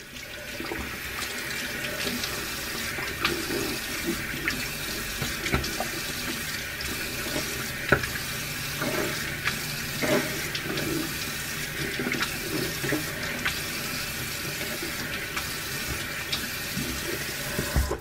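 A bathroom tap runs warm water continuously into a sink for face rinsing, a steady close splashing rush with small irregular splashes and clatters throughout.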